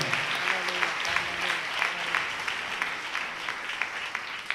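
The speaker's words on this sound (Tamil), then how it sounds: "நல்ல ஒரு கைத்தட்டு கொடுக்கலாமா?" A church congregation claps steadily and fairly loudly for several seconds, a dense wash of many hands with no pauses.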